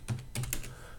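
Keystrokes on a computer keyboard while entering text in a video editing program: a short run of close, distinct clicks with small pauses between them, with no voices.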